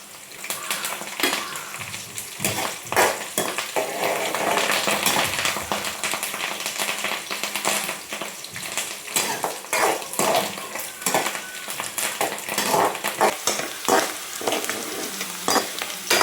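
Curry leaves frying in oily pickle masala while the pan is stirred: steady sizzling broken by frequent clinks and scrapes of a metal spoon against the pot, close and continuous, with no talking.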